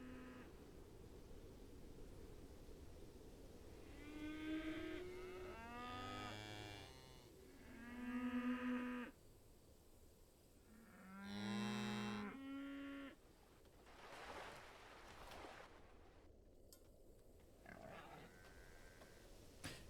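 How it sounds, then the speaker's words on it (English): Cattle in the game Songs of Syx moo repeatedly, several drawn-out calls rising and falling, some loud and close, over a quiet background with no speech. "you can now turn down the moo"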